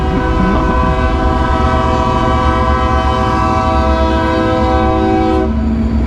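A train passes close by, its horn sounding loud and sustained as a rich, chord-like blast over the rumble of the rail cars, then cutting off abruptly near the end.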